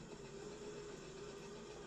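Steady hiss and rumble of a toy choo-choo train within a horror video game, running continuously and faint with no talk over it.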